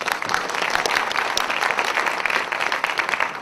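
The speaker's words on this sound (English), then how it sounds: "Another round of applause, please." Audience applause at a lecture event, dense continuous clapping from a crowd filling the room, fairly even and sustained without pause.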